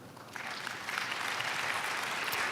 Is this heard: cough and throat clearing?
no